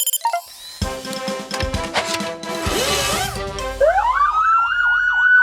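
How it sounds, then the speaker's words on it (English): Cartoon fire truck siren, a loud wavering nee-naw that winds up and then cycles rapidly near the end, preceded by clanks and toy-like sound effects. "Now that's a loud nee-naw."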